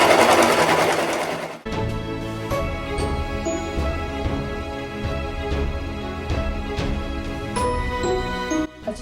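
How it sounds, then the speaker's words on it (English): Sewing machine stitching a three-layer fabric mask, running loud and close in a steady whirring, mechanical rhythm with a brief stop and restart for backstitching, no talk. "Lower the presser foot, and when you begin, make it a habit to backstitch."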